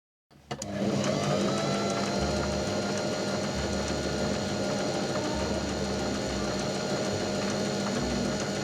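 Continuous machine whir and rapid mechanical rattle of a sewing machine running an overcast stitch along the edge of thrifted garment fabric, starting abruptly and staying loud and steady with no talking.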